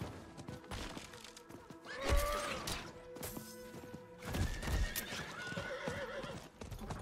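Horse hooves clip-clop in the Diablo IV video game, with a horse neighing and whinnying twice, set against layered game ambience and occasional thuds.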